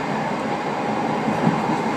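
A passenger train on the Shin'etsu Main Line between Mure and Toyono rolls along the rails with a steady, loud mechanical rumble and no voices.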